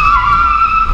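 A small mini truck being driven to test its 4x4 system gives a loud, steady whine with a high squealing tone over low rumble, continuous for about a second.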